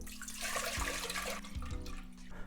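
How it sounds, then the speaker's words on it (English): Water pours steadily into a large cooking pot in a home kitchen, a continuous rushing splash with no talking. "So in a large pot like this, I'm gonna put in some water."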